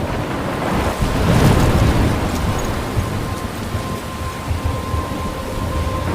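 Thunderstorm in the Life is Strange video game: steady heavy rain hiss throughout, with a deep rolling thunder rumble swelling early on, with no one speaking.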